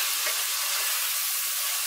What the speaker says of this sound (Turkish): Suyunu ekliyorum.